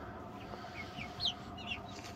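Five-week-old turkey poults give a few faint, high, brief peeps against a quiet indoor background, with two slightly louder chirps standing out.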